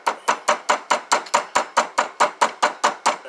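A kinked metal tube is tapped straight on a small vise platform with fourteen even, sharp hammer strikes in quick steady rhythm, close and loud, with no talking.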